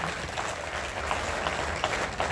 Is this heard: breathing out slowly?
no